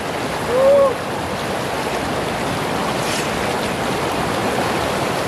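River water flowing steadily near Athirapilly waterfalls, a constant broadband rush close by, with a brief tonal chirp early on and no speech over it.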